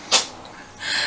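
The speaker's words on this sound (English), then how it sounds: "sorry, that was my cat sneezing." A cat sneezes once indoors, a short sharp burst close by, followed by a faint breathy rustle, with no speech.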